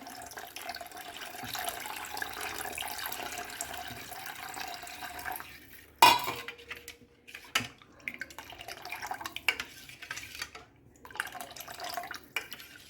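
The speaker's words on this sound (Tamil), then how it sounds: "சாதா தண்ணி விடுறேன்" Plain water pours from a tap into a pot of ground garlic rasam in a home kitchen, a soft steady trickle that stops with a clatter, then gentle drips and small splashes, all faint.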